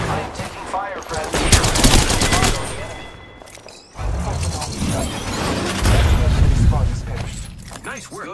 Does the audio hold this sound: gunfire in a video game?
yes